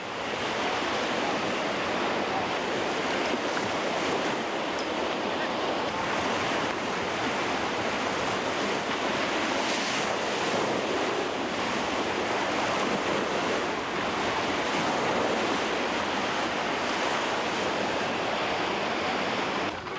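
Steady ocean surf roars continuously on an Australian beach during a surf carnival, a broad, loud wash of breaking waves with wind noise and no pauses.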